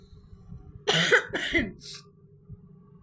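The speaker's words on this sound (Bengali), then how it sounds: "আমার কাশির শব্দ শুনে বুঝতে পারছো যে আমার কি অবস্থা" A woman with a cold coughs nearby: two harsh, close coughs in quick succession, then a short, fainter third one, against a quiet room with no talking.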